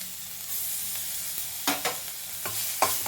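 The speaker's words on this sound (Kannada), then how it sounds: "ಇಂಗ್ ಜೀರಿಗೆ ಅರಿಶಿನ ಮತ್ತು ಕರ್ಬೇವು ಇಷ್ಟು ಹಾಕ್ತಾ ಇದ್ದೀನಿ" Chilies, asafoetida, cumin, turmeric and curry leaves tempering in hot oil in a pan, a steady soft sizzle with a few louder stirring scrapes, close and without talk.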